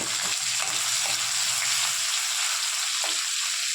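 Food frying in a pan with chilli added, a steady close hiss and sizzle running throughout with a few soft stirring knocks and no voices.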